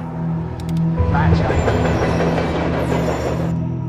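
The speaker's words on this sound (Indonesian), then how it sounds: "sebuah kereta barang yang melaju dengan cepat tanpa masinis" A runaway freight train with no driver speeds along the rails in an action film, its loud rumble building after the first second and then holding steady, with brief high metallic squeals over it.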